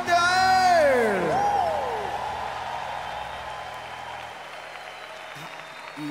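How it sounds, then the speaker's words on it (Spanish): A church congregation at a Spanish-language revival service claps and cheers loudly, with shouted voices and a sustained tone at the start, then the applause fades to a softer, steady patter. "Vamos, ese aplauso muy fuerte a Él."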